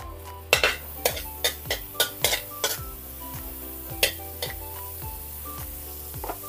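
Margarine sizzling in a frying pan while a metal utensil clanks and scrapes against the pan in a rhythmic series of sharp hits, with a steady frying hiss underneath and no talking.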